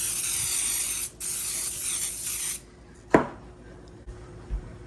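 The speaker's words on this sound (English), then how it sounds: "Let me get some spray." Cooking spray hisses onto a baking pan in two close, loud bursts with a brief pause between, followed by a sharp clink of the pan and a few soft kitchen knocks.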